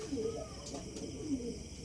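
A stock racing pigeon coos softly in a loft, with low throaty calls repeating a couple of times against a steady background hum.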